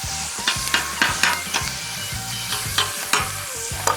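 Skirt steak and onions sizzle on a hot grill with a steady crackling hiss, and repeated scraping and tapping strokes from a utensil come through close and clear, with no talking.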